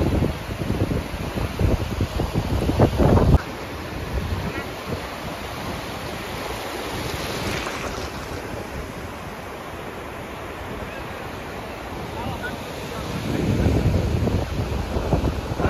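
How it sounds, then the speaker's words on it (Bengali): Small sea waves wash onto Bakkhali beach in rolling surges, with heavy wind buffeting the microphone and a roaring surge near the start and end. "এটাই হলো যে বকখালি বিচ। জলের ঢেউ একই রকম, আইল্যান্ডের মতো"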